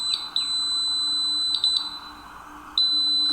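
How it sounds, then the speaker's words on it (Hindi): A small electronic buzzer in a lab circuit sounds a steady high-pitched tone when a magnet closes the sensor, with several brief chirping clicks as the contact is made and broken, close and fairly loud. "आप देखेंगे कि इससे ये बज़र साउंड प्रोड्यूस करे"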